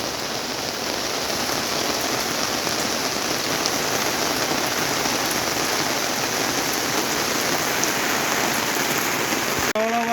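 Incessant heavy rain pours down in Boudh as a dense, steady roar of drops on surfaces. It stays loud and unbroken for the whole stretch, with no voices.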